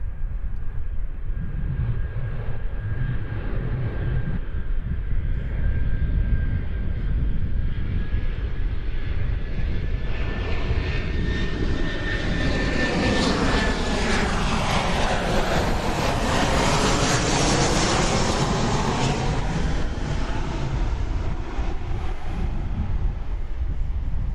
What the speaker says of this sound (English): American Flight 1978 from Reagan National Airport in Washington. It is a 737-800.